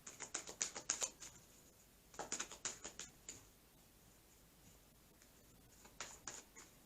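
Oracle cards are shuffled by hand in quick bursts of crisp riffling pats, three short clusters separated by quiet pauses, close and soft.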